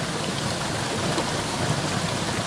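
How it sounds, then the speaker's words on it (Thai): Heavy rain pours down on a Thai mountain village in the early morning during a trip, a steady, dense, loud hiss of falling water that holds without a break and has no voices over it. "แต่ว่าตอนนี้ฝนตกแล้วหนาวมันทั้งคู่เลย"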